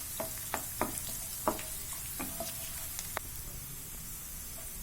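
Cumin seeds and chopped garlic frying in a pan, a soft steady sizzle with scattered small pops and crackles, fairly quiet and close, no voices.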